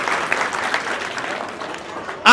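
A village crowd applauding for the village head, a dense steady burst of clapping close by that swells briefly at the very end.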